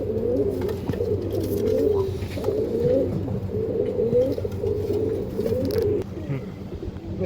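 Andhra breed pigeons cooing close by in steady, overlapping throaty rolls that repeat continuously, with faint rustling underneath.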